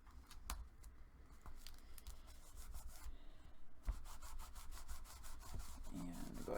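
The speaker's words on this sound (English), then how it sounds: "go ahead and burnish the heck out of it here." Burnishing a paper craft piece by hand, steady close rubbing and scraping strokes with a few light taps, no talking.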